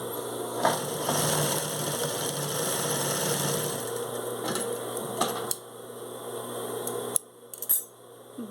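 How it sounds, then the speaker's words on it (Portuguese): A sewing machine whirs in a steady, close mechanical drone for about five seconds while stitching a shoulder bag with a wide presser foot, then stops; a second shorter burst follows before quiet clicks of handling. "E nós vamos costurar um pezinho de máquina"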